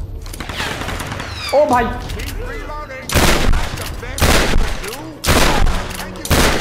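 Shotgun blasts in the video game Tomb Raider Definitive Edition, three loud booming shots spaced about a second apart, with game voices and creature cries before them and a voice talking over the gunfire.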